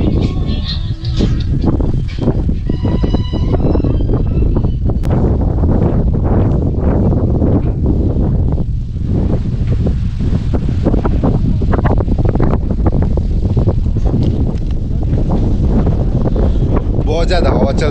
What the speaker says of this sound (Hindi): बहुत ज्यादा हवा चल रहा है यहाँ पर